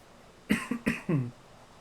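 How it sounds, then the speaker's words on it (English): A person coughs several times in quick succession, close and fairly loud, with short gaps between the coughs. "Sorry for the coughing, guys."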